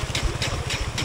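A motor vehicle engine runs with water in its exhaust on an off-road creek track, a loud, rough low chugging with regular pulsing bursts, close by and alone.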